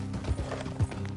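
Horse hooves clip-clopping on a trail in Red Dead Redemption 2, two heavier thuds standing out over a steady low rumble of ambient game sound.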